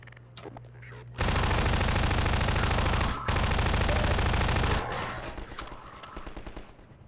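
Sustained burst of automatic gunfire in the video game Half-Life 2, loud and dense for several seconds with a brief break, then trailing off into scattered distant shots.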